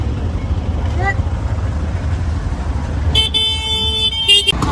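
Road traffic rumbles steadily on a busy Gujarat road with passing cars and bikes, and a car horn blares loudly for over a second near the end.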